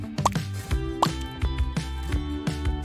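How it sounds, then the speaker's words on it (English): Several drops of food coloring fall into a bowl of lemon-lime soda, close and clear, as a few distinct drips and small plops over a soft fizzy liquid background, with no talking. "Then add some drops of food coloring."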